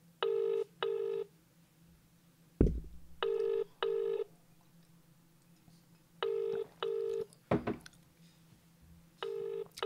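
Touch-tone keypad dialing in short bursts of paired tones, alternating with a telephone ringing unanswered, a few sharp clicks between, no voices, fairly quiet.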